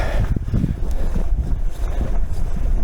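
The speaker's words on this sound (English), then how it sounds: "On this part, the wind is always blowing easterly" Strong outdoor wind roaring over a massive snowbank beside a road, a steady buffeting rush with low rumbling gusts hitting the microphone throughout.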